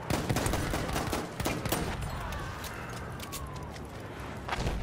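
Battlefield 1 combat with rapid rifle gunfire and a grenade blast, dense bursts of close shots that ease off midway and then return, with no talk over them.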